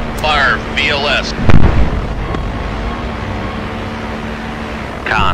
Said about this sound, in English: Fire VLS.